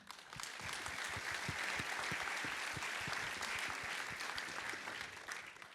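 Audience applause at a sports performance event in La Roche-sur-Yon, greeting a Thai boxing coach: steady, dense clapping from a seated crowd, even in loudness throughout and free of talk.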